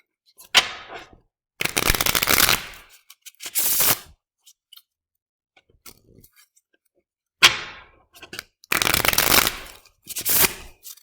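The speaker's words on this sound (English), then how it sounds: "So I'm going to shuffle, watch closely" A deck of playing cards shuffled in several loud, close riffle bursts, each a rapid flutter of cards, separated by pauses with faint handling clicks.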